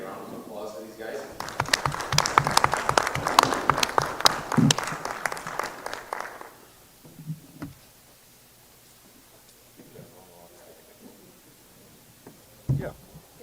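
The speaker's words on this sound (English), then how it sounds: "can I get a round of applause for these guys?" An indoor crowd at a cattle breeders' association annual general meeting applauds scholarship recipients, loud sustained clapping for about six seconds that then fades into quiet room noise with scattered voices.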